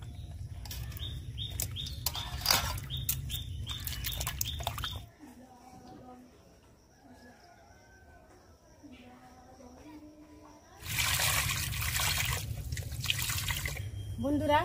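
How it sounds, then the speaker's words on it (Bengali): Fish heads rinsed by hand under a running tap for a lentil dish, a close splashing gush that stops for a few seconds with faint clinks and dripping, then returns, loud and steady, without talk. "বন্ধুরা, মাথাগুলো ধুয়ে নেব ভালো করে।"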